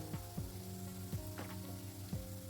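Chopped onion fries in a pan with a soft, steady sizzle, punctuated every half second or so by a quiet scrape of stirring, faint and close with no voices.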